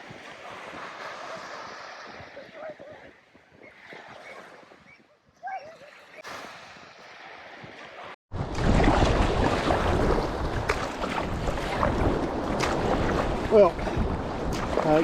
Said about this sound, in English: The waves were a little bit higher than I expected, but all good.